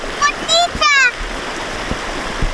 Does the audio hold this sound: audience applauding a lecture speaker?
no